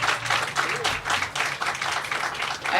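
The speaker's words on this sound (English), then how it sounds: "let's give him a round of applause for being such a great MC" Audience applause for the MC at the grand opening of the Weingart Rose, a dense crowd clapping that stays loud and steady and swells slightly toward the end.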